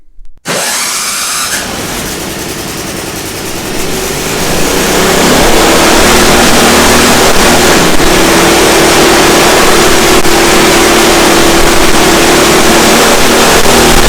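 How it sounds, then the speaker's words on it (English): A snowblower with a newly replaced transmission runs with its auger turning. The motor catches within a second and settles into a loud, constant roar that swells slightly and holds steady to the end, with no voices. "So my free snowblower, it's going to work."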